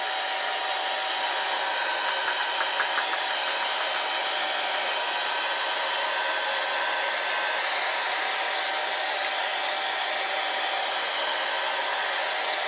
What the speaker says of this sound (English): I'm going to use my blow dryer to dry the paper